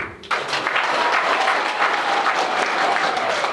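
An audience applauding at a community thanksgiving ceremony, breaking out suddenly after a brief quiet moment into loud, sustained clapping from many hands that continues evenly to the end.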